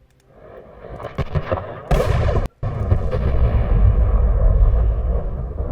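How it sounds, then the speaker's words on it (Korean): A lightning strike in a video game booms in as a loud, rumbling crack that builds, cuts out for a moment, then rolls on as a heavy sustained roar. "번개 떨어졌어?"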